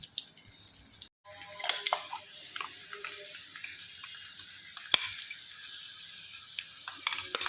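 Sliced potatoes cooking in oil in a pan for a Telugu-style potato and onion fry, salted as they go, with a steady soft sizzle and scattered stirring clicks and scrapes, close and continuous.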